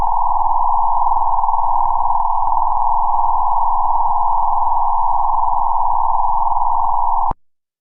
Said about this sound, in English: you would hear stellar music that sounds something like this.